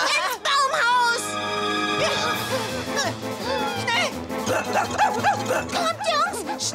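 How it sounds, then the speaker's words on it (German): An excited dog yips and barks over lively music and overlapping voices, the barks quick and close among the busy mix. "Das Wort macht den Köter völlig verrückt."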